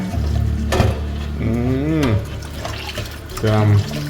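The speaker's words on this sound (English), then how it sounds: "Put some water in there." Water is poured into a pot of pig's tail and corned beef for a stew peas dish, giving a running, splashing fill sound under a person talking and vocalizing.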